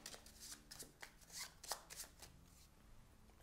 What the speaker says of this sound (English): we'll shuffle the Tempests.